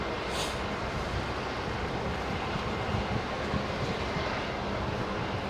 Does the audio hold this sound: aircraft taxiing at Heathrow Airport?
yes